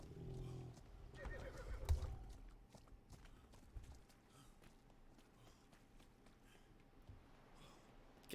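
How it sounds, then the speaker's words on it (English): Horse in the survival game ATLAS, with a whinny near the start and clip-clopping hooves and footsteps continuing quietly underneath, fairly faint and close throughout. "Horse sounds awesome"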